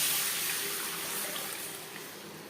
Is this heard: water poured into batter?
yes